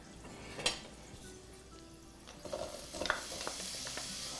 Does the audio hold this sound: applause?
no